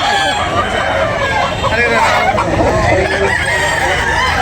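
Roosters and hens crow and cluck amid a busy chicken sale, a dense, loud mix of fowl calls with crowd babble throughout.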